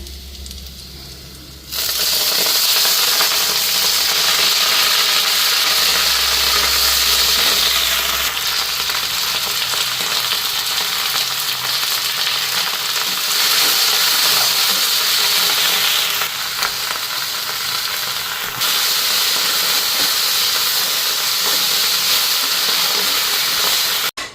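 Loud, steady sizzling of elephant foot yam (kharkol) leaves frying in hot oil, a dense continuous hiss with brief shifts as the food is stirred.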